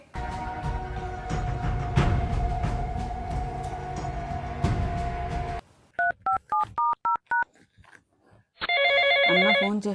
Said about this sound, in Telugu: అన్న ఫోన్ చేస్తున్నాడు